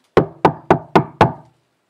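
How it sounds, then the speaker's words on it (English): Five firm knocks on a wooden door in an evenly spaced rhythm, close and loud, followed by silence. "She knocks"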